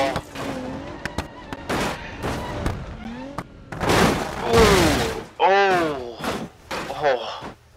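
A custom car crashes in the BeamNG.Drive video game. Sharp impact bangs and a loud sustained crunching burst stand out amid engine noise, while someone talks and exclaims loudly over it.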